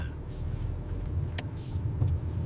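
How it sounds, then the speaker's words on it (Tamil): Cabin noise inside a 3-cylinder car while driving: a steady low engine drone and road rumble throughout, with a few brief faint rattles or clicks on top. "இந்த வண்டியில் ஏதோ சத்தம் கேட்கறது இல்லையா?"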